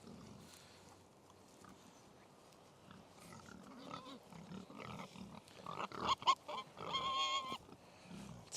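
Pigs on a farm, rooting and grunting at close range. Faint and scattered at first, the snorts and grunts grow louder and busier toward the end, with a few sharper squeals.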